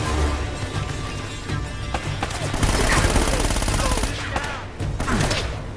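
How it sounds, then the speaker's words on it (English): Bursts of automatic gunfire in Uncharted: Drake's Fortune, with rapid overlapping shots forming a loud fusillade. Scattered impacts and action noise run underneath, and there is no speech. "Where are you shooting me from?"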